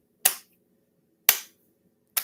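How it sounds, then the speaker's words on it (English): Three slow, spaced single hand claps, sharp and close, each ringing out alone in an otherwise quiet room. "Let's do a slow clap."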